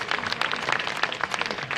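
Brief burst of audience clapping at a mushaira in Araria, Bihar: a dense patter of many hands, fairly near and steady for under two seconds.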